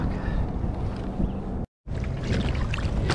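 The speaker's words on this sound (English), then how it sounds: "I'm paddling in." Kayak on the ocean during a fishing trip, paddle strokes swishing through the water under steady wind rumble on the microphone, broken by a brief cut to silence midway.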